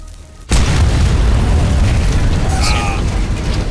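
A gunshot in the Sniper Elite 4 video game gives a sudden loud boom that stays as a dense, sustained rumble, with a faint whistling tone near the end.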